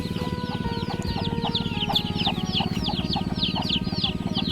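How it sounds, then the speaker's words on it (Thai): Many chickens clucking and chattering together close by, a dense continuous flock sound with bursts of higher calls throughout. "เบิ่งไก่เพิ่นเบิ่งเด้อนี่พี่น้อง"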